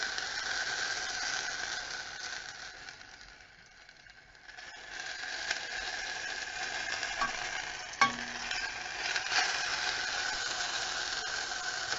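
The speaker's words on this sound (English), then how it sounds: "you just want to sort of fry the tomatoes until they're soft" Tomatoes frying in a pan until soft, a quiet steady sizzle with soft stirring scrapes, dipping briefly then continuing, with one sharp utensil click.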